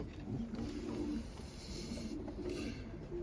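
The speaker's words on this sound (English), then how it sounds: "that's a red pigeon. Red pigeon with white flights." A red pigeon with white flights and a splash-patterned head cooing softly, low throaty coos repeating twice in a quiet, steady backdrop.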